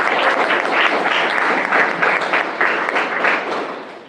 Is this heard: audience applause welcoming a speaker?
yes